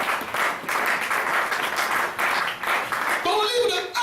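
A church congregation claps and cheers during a sermon, a broad wash of applause that swells and dips, with a voice rising over it near the end.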